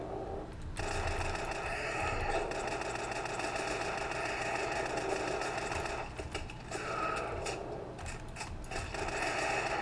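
Rapid automatic fire from an MP7 submachine gun in the zombie shooter game SAS Zombie Assault 3, a dense, continuous rattling stream of shots that barely pauses, with a short dip around the middle before resuming.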